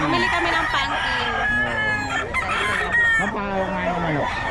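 Chickens cluck and a rooster crows repeatedly at a festival expo market, loud and close amid the bustle, with people talking in the background.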